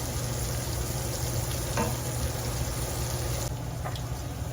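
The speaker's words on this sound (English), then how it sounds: "Let those onions caramelize a little bit." Onions frying and softening in a pan give a steady, loud sizzle throughout, with a couple of faint clinks from stirring and no voices.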